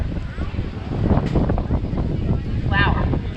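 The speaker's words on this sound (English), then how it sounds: "It's really windy out here." Strong wind buffets the microphone outdoors at a theme park food and art festival, a constant low roaring rumble with gusts, while people talk over it.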